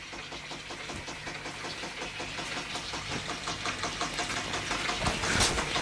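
A vintage Bing-Wolf model steam engine runs steadily with a fast, even mechanical chuffing and knocking rhythm, fairly quiet and close, continuing alone without talk.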